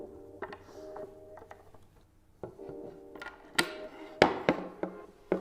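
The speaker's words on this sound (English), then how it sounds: "we will use the long end of the hex key to guide in the first screw" A hex key turning a screw into flat-pack furniture, with soft metallic clicks and scraping ticks that grow into a few sharper knocks near the end, close and fairly quiet.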